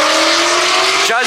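A Nissan GT-R, likely fitted with an AMS Alpha kit, at a Cypress cars-and-coffee meet: a loud, steady engine drone holds close and constant, then the pitch shifts briefly near the end.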